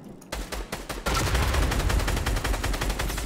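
Rapid bursts of automatic gunfire in a Fortnite match crack out loud and close, a few scattered shots first, then a dense unbroken volley lasting a couple of seconds.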